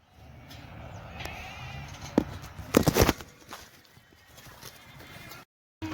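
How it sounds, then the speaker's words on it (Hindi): Goats in a village in Saudi Arabia give a few scattered bleats amid hoof clatter and shuffling footsteps, fairly close, with a brief burst of activity midway and faint voices in the background. "ये हमारा बकरी है उस्ताद जी, चौधरी साहब अपना बकरी को निकालेंगे भाइयों।"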